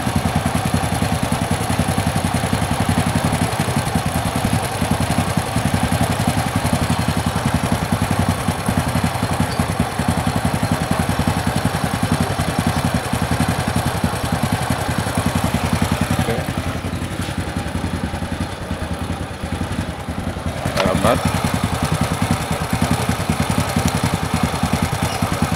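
A motorcycle engine with a stock carburetor idles steadily and close, a low rough rumble with rattling clatter, dipping briefly before resuming at the same level.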